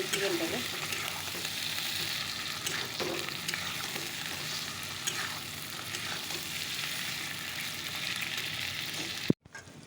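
Chicken sautéing in a pan, a continuous soft sizzle with occasional stirring scrapes, fairly quiet and steady, ending in an abrupt click.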